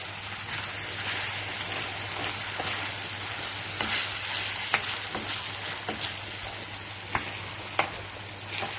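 Mince meat sizzles steadily in a pan as sauce is stirred in, a continuous close frying hiss broken by a few sharp spoon scrapes and clicks against the pan, with no talking.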